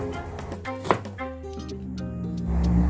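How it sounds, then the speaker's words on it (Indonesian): Long beans are cut with a knife on a board in a home kitchen, giving a few crisp chopping taps close up, one sharper than the rest, over faint background noise. "Potong-potong kacang panjangnya hingga selesai."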